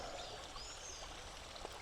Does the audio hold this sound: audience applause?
no